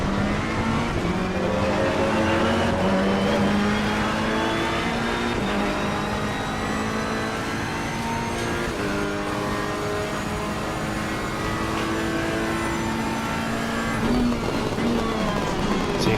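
Several racing car engines in a video game at Kyalami whine and rev continuously in a tight pack, pitch rising and falling with gear changes, loud and close throughout.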